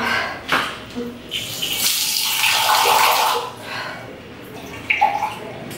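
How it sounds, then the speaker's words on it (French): Water is poured over hair during a salt hair wash, a close, loud gushing splash building and running for a few seconds, then easing off with a few drips and small splashes. "Et je vais remettre de l'eau."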